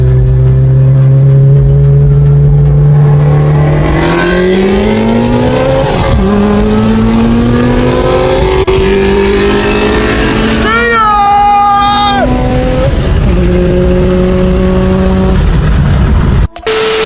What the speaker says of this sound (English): Next up, we have an Evo 8 versus a super cocky Mustang GT.